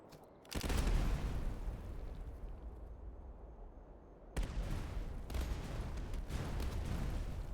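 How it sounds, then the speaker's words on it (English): Booming artillery fire from the Napoleonic strategy game Master of Command, Austrian border troops: two loud, rumbling cannon volleys that swell and slowly decay, with a brief lull before the second. "let's get our artillery shooting at the one with the officer"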